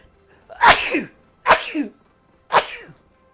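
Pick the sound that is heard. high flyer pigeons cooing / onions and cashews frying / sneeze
sneeze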